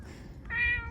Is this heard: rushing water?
no